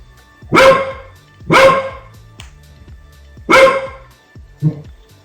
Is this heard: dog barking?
yes